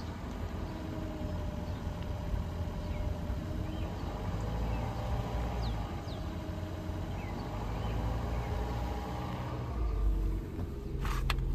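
A Toyota Prius hybrid's petrol engine runs at a steady low rumbling idle, quiet and continuous, with no one speaking over it.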